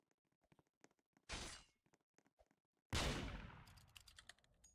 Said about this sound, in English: I just heard the gunshot and then it said victory straight away.